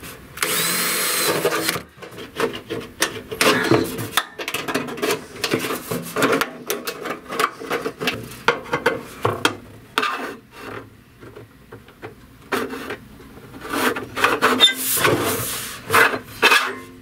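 Metal tab being cut for a homemade rain barrel valve, a steady run of rasping, grinding strokes with brief pauses, close and fairly loud with no talking.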